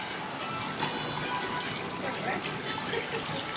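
Water runs steadily to fill a spa bath, giving an even, low hiss and rush that holds at a constant level throughout, fairly soft and close.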